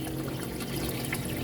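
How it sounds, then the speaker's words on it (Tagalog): Water trickles slowly and steadily into a container holding crayfish during acclimation before release into an aquarium, a faint, continuous dribbling with no talk. "tapos unti-unti ko siyang linalagyan ng patak-patak lang guys"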